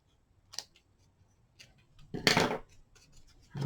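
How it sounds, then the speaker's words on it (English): Scissors snip off the dried ends on a glue-gun craft piece, a few faint, quick clicks spread apart, with one louder rustling snip near the end in an otherwise quiet room. "this one's dry, so let's go ahead and snip those off"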